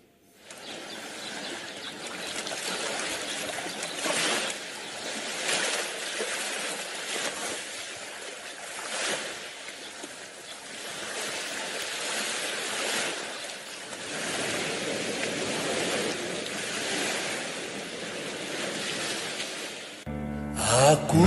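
Sea waves surge and wash continuously for about twenty seconds in rolling, hissing swells of surf. No voices are heard over them.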